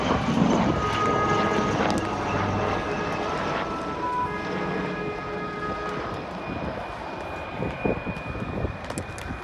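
A HAL Light Combat Helicopter diving and sweeping through tight turns at an Aero India flying display, a loud steady turbine roar with rotor whine that fades slightly as it passes, heard alone.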